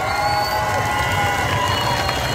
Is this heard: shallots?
no